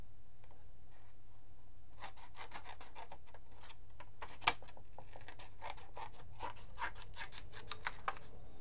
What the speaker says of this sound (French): Là, je vais couper.